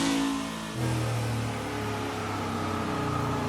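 Single-turbo diesel work truck engine revving hard on a dyno pull, a loud sustained roar with a low steady drone and a brief pitch shift near the start, no voices.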